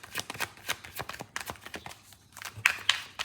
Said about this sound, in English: If you don't want to see the shuffling